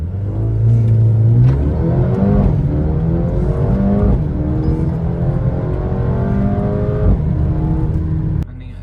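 A Mercedes-AMG A35 accelerates hard, its engine note sweeping upward in repeated rising pulls broken by quick gear changes, loud and close inside the cabin, with a voice heard at moments.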